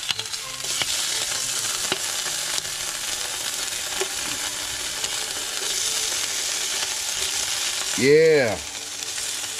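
Ham frying in a pan, a steady close sizzle and crackle throughout, with a brief voice near the end.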